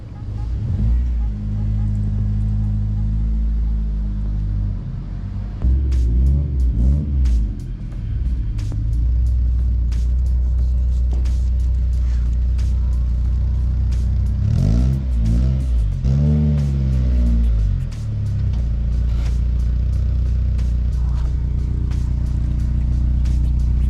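The engine of a Honda S2000 rumbles at low idle while the car rolls slowly into place, rising with a few throttle blips in the middle, steady and close throughout.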